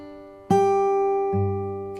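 Fingerstyle acoustic guitar played with ring-finger accents: two plucked notes ring out clearly, the first at half a second and a second accented pluck near 1.3 seconds, both sustaining cleanly with no talking.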